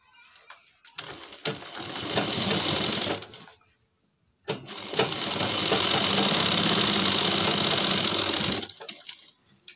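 A sewing machine stitches the belt of size-32 trousers in two close, loud bursts, the first short run stopping before a second longer one, with a quiet gap between.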